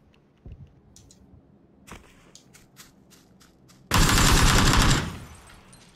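Automatic gunfire bursts in PUBG on the Erangel map, a loud sustained volley of about a second following scattered faint clicks and thumps, with no talk.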